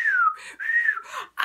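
A voice imitates a whistling tea kettle in two rising-and-falling whistles, the first gliding downward and the second held steady, each followed by a soft breathy hiss, heard clearly with no other talk.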